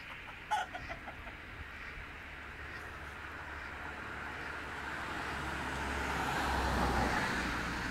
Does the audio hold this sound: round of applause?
no